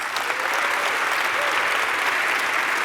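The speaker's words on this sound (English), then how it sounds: "Can you give them all a massive round of applause, please?" A conference audience at the RailsConf 2024 closing session applauds its sponsors with a dense, even wash of clapping that stays loud and unbroken throughout.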